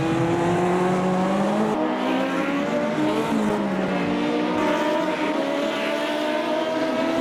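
Race cars in a racing game roar past on the Salvador Street Circuit, steady loud engine whine with shifting pitches as several cars pass through a chicane and over curbs, continuous and close.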